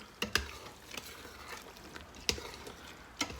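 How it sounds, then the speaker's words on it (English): Noodles being stirred in thick beef bolognese sauce from a jar inside an Instant Pot, quiet soft scraping punctuated by a few sharp utensil clinks against the pot. "So we're just gonna stir this up a little bit."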